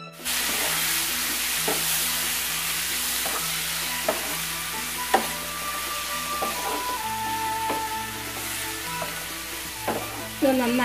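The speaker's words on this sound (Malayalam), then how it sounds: "കൊഞ്ച് ഇങ്ങനെ ഈ എണ്ണയിലിട്ട് ഇളക്കിയെടുക്കുന്ന സമയത്ത് ഇതിലുള്ള വെള്ളമൊക്കെ ഇങ്ങോട്ട് വരും." Prawns fry in hot oil with softened onions for prawn theeyal, a steady close sizzle with scattered clinks and scrapes of a spoon stirring the pan throughout.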